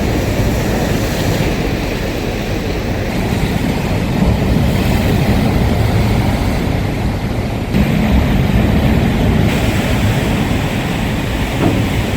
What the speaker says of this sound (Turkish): Kayalara çarpan dalgaların boyu 8 metreye ulaştı.